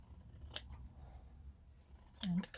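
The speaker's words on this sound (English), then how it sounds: "get these scissors" Scissors make two crisp snipping cuts, separated by a pause, close and fairly quiet in an otherwise still room.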